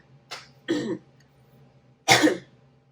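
A few short coughs close to the microphone, two quick ones followed by a louder single cough after a pause, in an otherwise quiet room.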